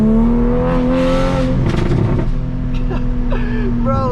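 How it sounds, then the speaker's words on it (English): A Toyota MK5 Supra accelerating hard at half throttle, heard from inside the car as a loud, steady engine drone with a rising tone. Brief shifts break the climb, and a voice speaks faintly under it. "I'm just going to do like a half throttle full send and just show you guys how crazy this is"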